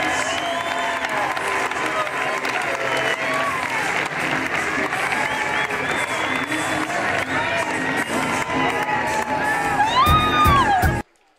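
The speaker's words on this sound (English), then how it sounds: "Let's give them both a great big round of" A large crowd at a minor-league baseball game applauds and cheers steadily, with whistles and whoops rising near the end before the sound cuts off abruptly.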